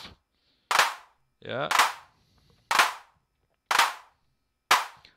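Five evenly spaced synthetic claps from a Weston Audio AD110 analog drum Eurorack module, each a sharp crack with a short smeared reverb tail; someone briefly says something between two of them.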